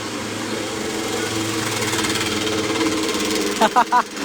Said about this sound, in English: The loudest scooter in the world just passed.